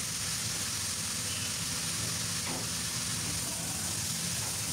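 Sliced green chillies and onions frying in a pan for vegetable curry, giving a constant even hiss of sizzling oil with a faint scrape near the middle, no voices.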